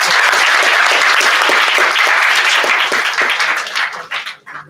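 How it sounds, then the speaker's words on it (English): A crowd claps steadily and loudly, the applause holding strong before thinning out into a few scattered claps at the end. "I want a big round of applause"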